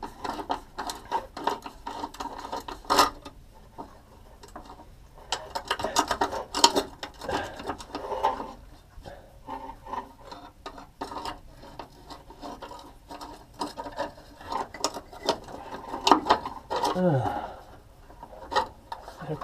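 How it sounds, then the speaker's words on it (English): On a 2002 Ford Windstar, a fuel pump hose clamp is worked loose with hand tools, giving irregular scraping, ratcheting and metallic clicks in short bursts, close and moderately loud, with faint voice sounds in places. "we're gonna loosen this hose clamp."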